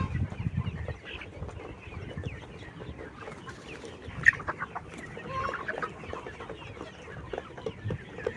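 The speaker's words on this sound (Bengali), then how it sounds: "আমার ভিডিওতে যে লেয়ার পুলেট মুরগিগুলো দেখতেছেন" A flock of 75-day-old layer pullet chickens, not yet beak-trimmed, clucks and murmurs continuously at close range, with overlapping calls and occasional sharper squawks and no talk.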